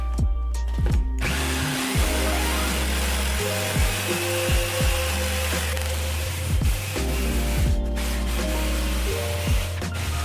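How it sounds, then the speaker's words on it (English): A power tool whines loudly and steadily, close by, as a window opening is cut into a wooden doghouse with a jigsaw, its pitch dipping and rising with the load through the cut. "So I cut that out with the jigsaw"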